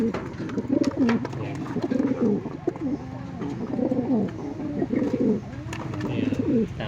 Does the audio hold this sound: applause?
no